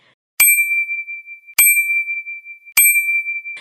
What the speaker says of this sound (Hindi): घंटी की गूंज इतनी तेज थी कि पूरी इमारत कांप उठी।